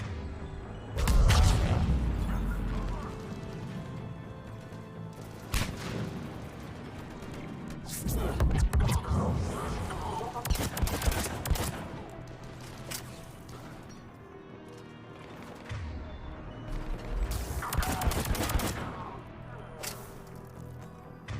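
Pistol gunfire in the Mass Effect 3 video game: several sharp cracking shots in separate bursts with short gaps between them, against a busy combat soundscape.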